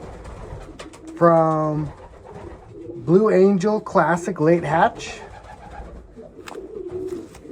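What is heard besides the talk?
racing pigeons cooing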